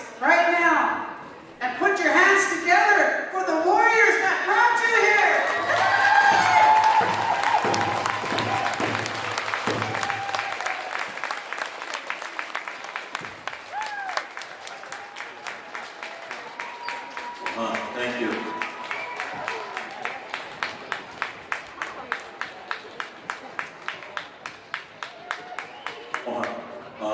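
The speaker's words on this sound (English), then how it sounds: "put your hands together for the warriors that brought you here." A crowd in the stands at a wacipi powwow applauds Vietnam veterans with a long, loud swell of clapping that thins into steady rhythmic claps, while an announcer speaks over a PA at the start.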